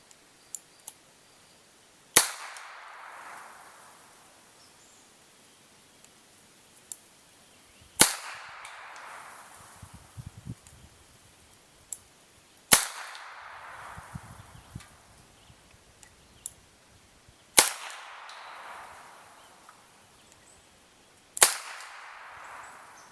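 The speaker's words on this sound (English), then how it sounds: "once again, I'll be firing in double action" Five sharp, loud gunshots from a Ruger SP101 revolver in .327 Federal Magnum, fired in double action outdoors, spaced several seconds apart, each a hard crack with a brief echoing tail.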